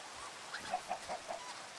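A chicken clucks in a short series of four or five soft, evenly spaced calls, fairly faint against a quiet background with no talking.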